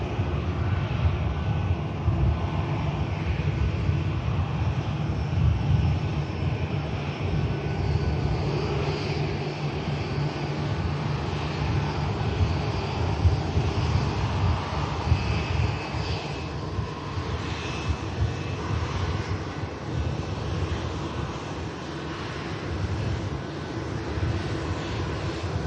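A Boeing 787 Dreamliner at Manchester Airport gives a steady, loud roar of jet engines. It sustains a broad rumble throughout without pause, with no speech over it.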